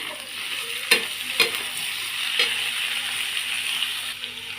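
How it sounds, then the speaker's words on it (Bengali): Beans frying in a pan: a few distinct spatula scrapes against the pan, spread out, over a steady close sizzle. "সিমগুলো একটু ভালো করে নেড়ে চেড়ে নিতে হবে।"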